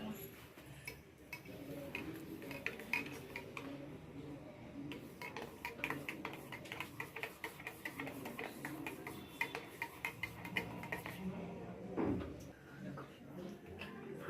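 A spoon clinks against a cup while coffee is stirred and mixed, producing a rapid run of faint metallic ticks under a quiet room hum.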